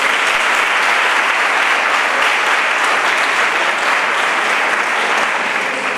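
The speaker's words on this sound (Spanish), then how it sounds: "Para la que pido un fuerte aplauso" A school audience at a twentieth-anniversary gala breaks into loud, dense applause that holds steady without pause from start to finish.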